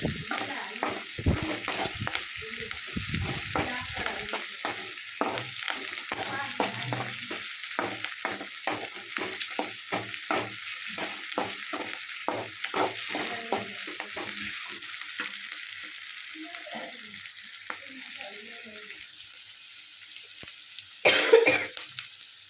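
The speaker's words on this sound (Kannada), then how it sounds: "ಇಷ್ಟು ಚೆನ್ನಾಗಿ ಫ್ರೈ ಮಾಡಿಕೊಡಿ" Curry leaves fry in a pan, crackling and sizzling in quick repeated bursts with stirring scrapes, close by, a cough-like noise near the end.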